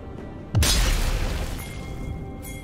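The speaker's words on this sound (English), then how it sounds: "Turret has been destroyed" Turret destroyed in League of Legends, a sudden loud booming blast with a deep thump that rings out and slowly fades under steady game sound.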